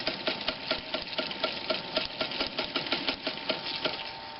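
A Reed's sailmaker sewing machine stitches with a rapid, steady mechanical clatter, regular needle strokes repeating several times a second, close and continuous throughout with no talk.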